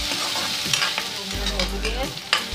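Cauliflower stalks fry with ginger garlic paste in a pan, a continuous close sizzle broken by several scraping stirs and knocks of a spoon, without speech.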